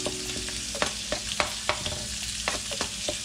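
Shrimp and garlic frying in a pan, a steady close sizzle with repeated sharp scrapes and clicks of stirring scattered through, no talking.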